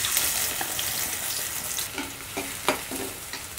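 Chopped onion dropped into hot oil in a heated kadhai sizzles steadily up close, with a few soft scrapes and clinks of stirring and no voices.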